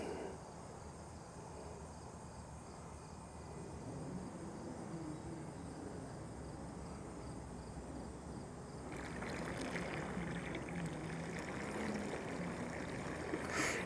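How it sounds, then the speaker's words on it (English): A Wybot C1 robotic pool cleaner runs along the water surface with a steady churning, splashing whir, close and continuous, growing louder and brighter partway through as it grinds its fins against the surface. "And it stays at the surface, so it grinds those fins against the surface of the water"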